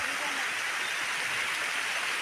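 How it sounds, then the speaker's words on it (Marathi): Heavy monsoon rain pours down in the hills in a steady, dense hiss, unbroken and fairly loud throughout. "डोंगरा पाऊस भरपूर जोरात पडता"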